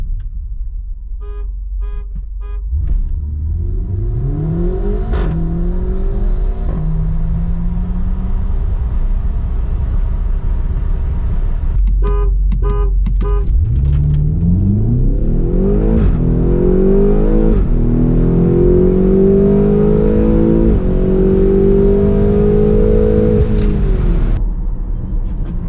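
A stage 1 tuned 2016 BMW X5M in boot mode races a Tesla Model Y Performance, with loud engine revs climbing through several gear shifts, beeping tones between runs and a steady road roar.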